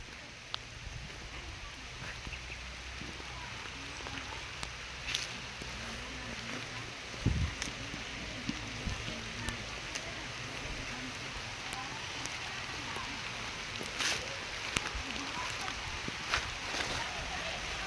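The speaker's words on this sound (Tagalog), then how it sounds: "Ulan na." Steady rain patters across a sweet pepper field, a constant wash of drops with a few sharper knocks and faint voices in the background.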